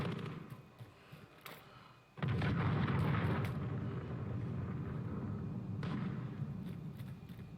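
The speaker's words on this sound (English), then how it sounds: "Enemy cruise missile incoming." A cruise missile strike in Call of Duty: Modern Warfare multiplayer lands as a sudden, loud, deep rumbling blast that swells and rolls on for several seconds after quieter ambient noise.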